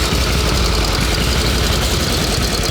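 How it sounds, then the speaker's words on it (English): A 1910s Traub motorcycle engine runs steadily with a dense, even low rumble and a busy mechanical clatter, loud and close throughout with no voices. "runs absolutely flawlessly, and just makes great power for a 19-teens era motorcycle"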